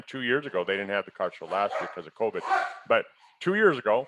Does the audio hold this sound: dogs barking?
yes